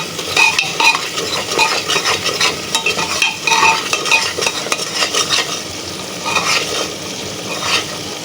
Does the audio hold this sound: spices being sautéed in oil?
yes